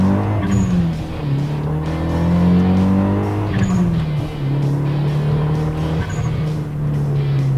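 A front-wheel-drive 1993 Mitsubishi Eterna GTI turbo accelerates hard, its engine climbing in pitch through repeated rising sweeps between gear changes, with a turbo whistle at each shift. The sound is loud and close, heard from inside the car.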